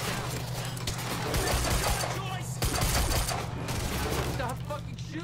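Gunfire in the video game Quantum Break, a dense fusillade of rapid shots running under excited voices talking over it throughout.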